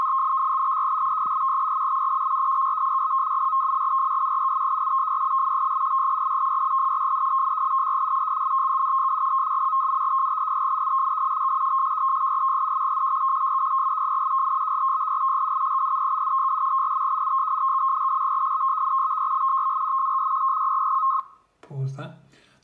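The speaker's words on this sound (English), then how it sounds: "That encodes and decodes FSK modem signals." Continuous FSK modem tones generated by minimodem software on Linux transmitting text, a loud steady warbling data signal lasting about twenty seconds before stopping abruptly, followed by a brief low thump.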